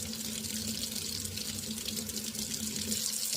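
Cold water runs steadily from a kitchen tap, filling a container for homemade water kefir, a constant broadband rush with no pauses.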